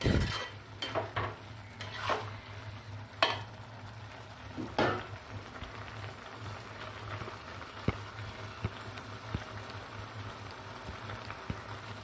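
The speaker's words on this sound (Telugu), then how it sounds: "ఈ టమాటో పచ్చివాసన పోయే వరకు కాసేపు అలా వేగనిద్దాం" Tomatoes sizzle and fry in a pan for a cabbage and moong dal curry, a soft steady crackle broken early on by a few louder stirring scrapes, with no voices.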